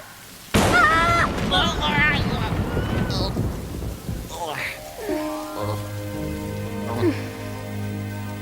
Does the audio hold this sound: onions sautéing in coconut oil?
no